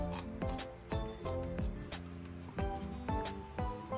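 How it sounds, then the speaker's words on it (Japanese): Kitchen scissors snipping through raw fish during sushi preparation, a series of about eight crisp crunching cuts in an irregular rhythm, close and clear, with no talk. "ここをハサミで切る。"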